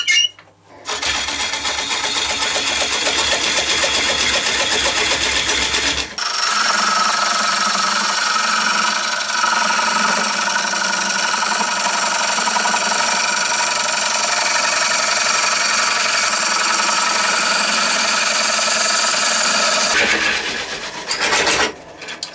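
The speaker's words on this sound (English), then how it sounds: "So I'm just establishing a groove with my curve tool" Wood lathe turning a bowl while a curved tool cuts a groove: a loud, continuous rasping, grinding scrape close up, broken by a brief pause near six seconds and easing off toward the end.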